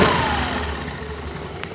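Repaired scooter engine running close by, a steady idling hum with a faint rise in revs near the start, continuous and unaccompanied by talk.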